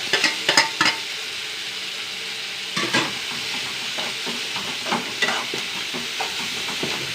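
Garlic and tomato sautéing in a pan, a steady soft sizzle broken by repeated scraping and clattering strokes of a stirring spoon, close and moderately quiet with no talking.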